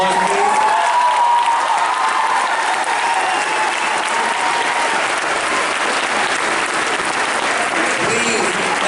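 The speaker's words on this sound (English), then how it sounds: "Let's please give them another round of applause" Sustained applause from an audience at a middle school 8th grade moving-up ceremony, a steady dense wash of clapping lasting throughout with faint crowd murmur mixed in.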